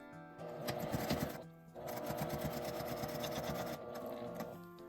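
A sewing machine stitches a seam across fabric for a multi-pocket makeup bag, running in steady bursts with a short pause partway through, close and fairly quiet with no talking.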